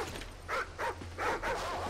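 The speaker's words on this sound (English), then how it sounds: "What's this dog up to?" A dog whines and yips in short bursts within Call of Duty: Ghosts, four brief high whimpers over a low steady background hum, close and moderately loud.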